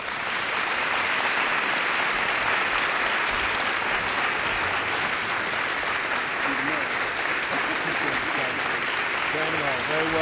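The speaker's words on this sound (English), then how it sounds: "let's give a round of applause to the one and only Reverend Jesse Jackson" A large audience in Sacramento gives sustained, loud applause for Reverend Jesse Jackson, a dense continuous wash of clapping that holds steady throughout with faint voices rising near the end.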